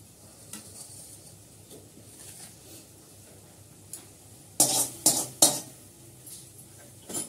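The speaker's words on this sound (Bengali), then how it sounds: "ডালটা ফোড়ন দেবো এবার" Dal tempering in a pan, with faint kitchen clinks and stirring before three sharp, loud bursts of hot-oil sizzling in quick succession near the end.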